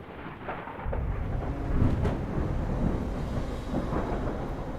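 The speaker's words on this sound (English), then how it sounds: "Why do we hear a storm?" Thunderstorm ambience in the video game STASIS: a low, continuous rumble of thunder with a steady wash of rain, moderately quiet and sustained, no voices.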